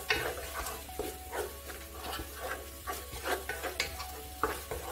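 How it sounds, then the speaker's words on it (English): Egusi soup with stock cubes and crayfish frying in a pot as a spoon stirs it, giving a steady sizzle with repeated scraping strokes close by and no talking. "Add in some crayfish and stir."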